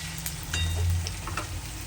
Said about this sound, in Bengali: রসুনটা পেঁয়াজের সাথে 1 মিনিট ভাজার পর